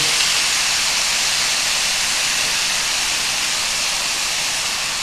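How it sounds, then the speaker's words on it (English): Steady, loud hissing sizzle of chicken frying in a hot pan, continuous and close with no voices. "I'm going to add this just to make a nice little sizzle here."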